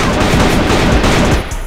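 AK-47 fire in a video game, a loud continuous burst of rapid automatic shots that runs almost the whole time and drops off near the end.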